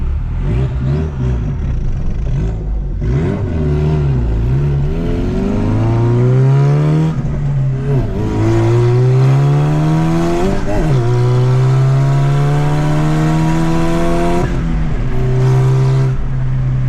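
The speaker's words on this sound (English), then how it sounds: "The front seems pretty loud, like clunky, but we'll see how it drives." A custom car's engine on a test drive revs up and down through several gear changes, loud and close, its pitch rising and falling with acceleration and a rumbling low drone throughout.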